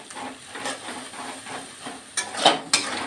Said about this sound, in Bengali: আমি ডিমটাকে ভেজে নিচ্ছি